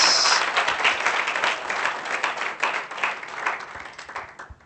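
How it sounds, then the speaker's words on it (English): Applause rings out at a 2016 graduation ceremony, many hands clapping steadily and then gradually thinning and fading toward the end. "A good round of applause again, please."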